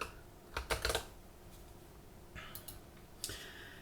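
Quiet keystrokes tap on a computer keyboard in short bursts, a cluster of quick clicks followed by a pause and then a few more presses, soft and close with no talking.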